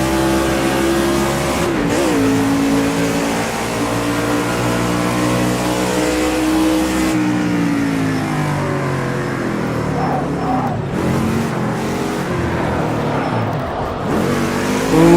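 A NASCAR race car in Project CARS 2 runs at high revs, its loud engine droning and rising through gears, then easing off under engine braking while continuing to roar close up for the whole stretch.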